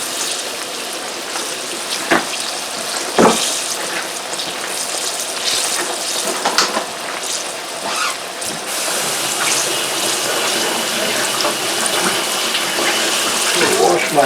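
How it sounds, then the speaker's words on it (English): Water runs steadily from a kitchen tap while hands are washed, a continuous close rush with occasional splashes and knocks, and faint talk briefly underneath. "Wash my hands."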